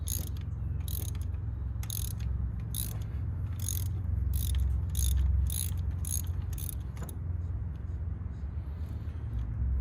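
A ratchet clicks in rapid bursts while undoing coil pack bolts on the M272 engine of a 2005 Mercedes SLK 350, close and crisp, with pauses between runs of clicks.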